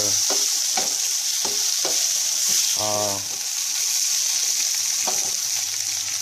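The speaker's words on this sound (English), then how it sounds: "Do you want like a little sear, light sear like that?" Meat sears in a non-stick pan for a pepper steak dish, giving a steady sizzle with scattered clinks and scrapes of stirring throughout.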